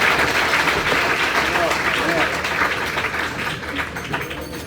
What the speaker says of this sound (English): now we can ask for one more big round of applause for our 76 team